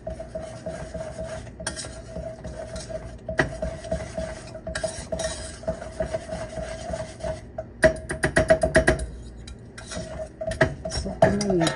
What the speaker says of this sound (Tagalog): Lagyan ko siya ng cold milk. So, stir.